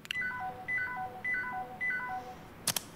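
In a Five Nights at Freddy's style horror game, a phone call begins with four quick runs of descending dial-tone beeps, fairly quiet and evenly spaced, followed by a pair of sharp clicks as the line picks up.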